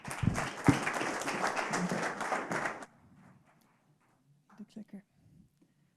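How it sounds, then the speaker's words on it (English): A warm round of applause from a farming conference audience fills the first three seconds, dense and steady, then cuts off, leaving faint room noise and a few soft knocks. "give Tina a warm round of applause and welcome"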